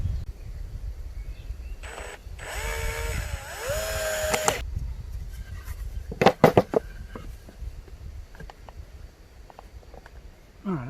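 A power screwdriver drives screws into a wooden batten in two short whirring bursts, the first longer with a rising motor pitch, then a few sharp knocks and quiet handling noise.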